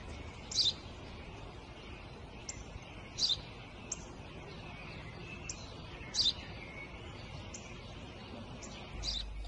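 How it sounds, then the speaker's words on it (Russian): A sparrow chirps outdoors in short, sharp, high tweets scattered over several seconds, fairly distant and faint against a soft steady background hiss. "Это воробей, отец, воробей."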